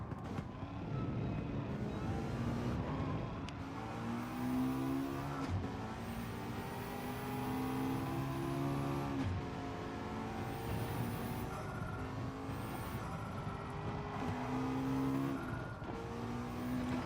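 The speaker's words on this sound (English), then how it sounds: "Corvette's gonna pass me real soon because my traction is almost gone" Race cars in Gran Turismo 7, a Corvette among them, drone with whining, rising and falling engine notes and occasional tire squeal across a long stretch of continuous racing, with no talking.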